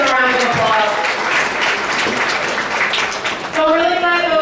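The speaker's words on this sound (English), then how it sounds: "Yes, please give them a round of applause." Conference audience applauds steadily for several seconds, a dense wash of clapping with voices mixed in underneath.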